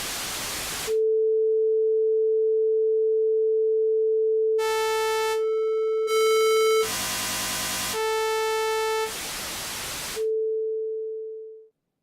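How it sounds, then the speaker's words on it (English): CrusherX synthesizer steps through LFO wave shapes one per click: a long steady tone, then buzzy harmonic-rich blocks, bursts of noise and short gaps, ending on a fading tone, loud and alone. "The wave shapes are sine, then saw, then triangle, then rectangle, then random, then spline, and at least noise, and back to sine"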